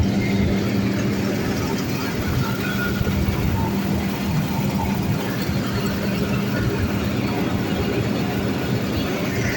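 A New Holland NH 5070 tractor-drawn harvester runs at full throttle during a barley harvest, a steady, loud, droning engine and machinery roar that holds without a break throughout.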